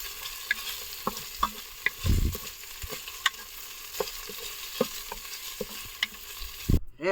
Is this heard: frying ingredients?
yes